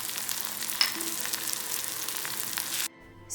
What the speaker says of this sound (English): After 5 minutes of sauteing it, I am going to add 2 tablespoons garlic coarsely ground and allow it to mix well